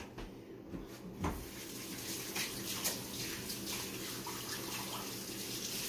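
Water running steadily from a tap as hands are washed in a kitchen, a continuous close splash with a few knocks and clatters over it.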